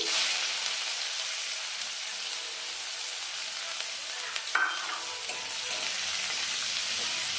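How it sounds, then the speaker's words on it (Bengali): Chopped onion fries in oil over black cumin for a pabda fish curry with flat beans and potatoes, giving a steady close sizzle with a brief utensil scrape partway through and no talk. "পেঁয়াজটা নিয়ে এসে হালকা লাল লাল করে নেব"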